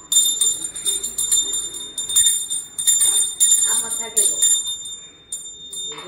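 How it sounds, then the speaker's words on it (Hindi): A temple bell rings repeatedly during a puja at a Kumaoni Ghughuti festival in Uttarakhand, bright metallic strikes in bursts with brief pauses, loud and close, with some voices in the background. "घंटी बजा।"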